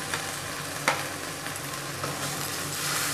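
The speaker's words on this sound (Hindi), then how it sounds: "अभी हम अदरक का पेस्ट डालेंगे।" Ginger paste sizzles loudly in hot oil with fried onion and garlic for a Jeera Rohu fish curry, a dense, continuous crackling hiss with a few stirring scrapes, close and steady.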